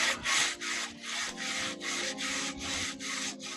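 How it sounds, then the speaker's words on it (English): A shoe is scrubbed with a brush in a paste of baking soda and vinegar, giving rhythmic, close, rasping back-and-forth strokes, about eight in quick succession with short pauses between them. "And then you're going to scrub."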